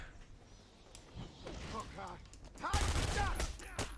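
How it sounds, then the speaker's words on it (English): Rapid enemy gunfire in a Batman Arkham video game, a dense burst of shots that swells louder toward the end, with someone talking over it. "I forgot they shoot so fast."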